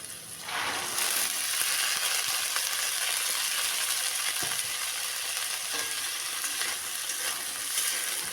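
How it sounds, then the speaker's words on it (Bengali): Onions and soaked chickpeas frying in a pan, giving a steady, close hiss of sizzling oil with occasional light stirring scrapes, and no voices. "পেঁয়াজটা নেড়ে চেড়ে একটু হালকা লালচে হয়ে গেলে এর মধ্যে ভেজানো ছোলাগুলো দিয়ে দিলাম"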